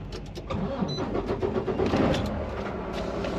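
Truck engine running steadily as the truck rolls out, a close mid-pitched rumble with a constant low drone and a few faint clicks over about three seconds.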